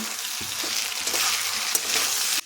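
Vegetables in a pan sizzle steadily as chilli sauce and soy sauce are stirred in, a dense close frying hiss with occasional spatula scrapes and clicks, no voices.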